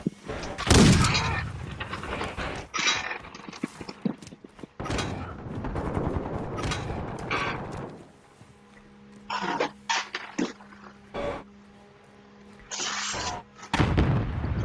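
Gunfire in the video game Modern Warfare 2 comes as bursts of loud, sharp shots and booms, separated by quieter gaps with faint game sounds and brief voice.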